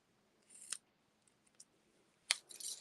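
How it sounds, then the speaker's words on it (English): Dedicated ribbon scissors snip through ribbon in two crisp, close cuts about a second and a half apart, with faint rustling in between and no talking. "Come in with my ribbon scissors."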